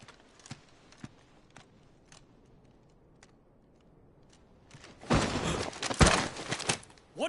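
A steed's hooves clip-clop in the Final Fantasy XVI video game, with faint scattered clops at first, then a louder, dense burst of hoof and movement noise near the end.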